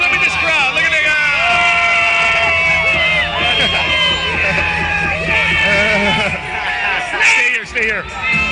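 An arena crowd at a mixed martial arts event cheers and whoops loudly, a dense roar of shouts and yells with voices rising above the babble throughout.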